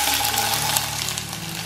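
Sliced shallots sizzle in hot oil in a pan while cooking a Kerala-style squid thoran, giving a steady, close, broadband frying hiss that stays even throughout with no talk.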